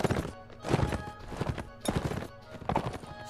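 Hooves clop in uneven bursts and a horse whinnies in Mount & Blade: Warband, with short gaps between the loud patches and a little talk.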